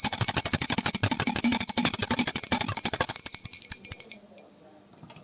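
A small hand bell rings rapidly and continuously, close and loud, during a Hindu puja food offering at a home shrine for Hanuman Janmotsav, then stops abruptly after about four seconds.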